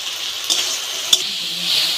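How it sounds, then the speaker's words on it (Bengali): Jujube (kul) chutney with turmeric and salt frying in hot oil, giving a steady close sizzle with a few light stirring knocks and one sharp clink near the middle. "এখন সামান্য হলুদ আর পরিমাণ মতো নুন দিয়ে কিছুক্ষণ ভেজে নিতে হবে"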